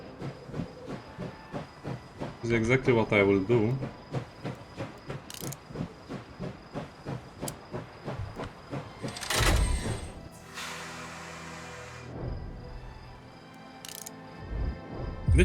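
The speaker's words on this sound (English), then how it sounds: "I can also just start the train and wait for them over here." A steam train in the video game Last Train Home starts up and runs, with rhythmic chuffing beats that quicken and bursts of hissing steam; someone speaks briefly over it.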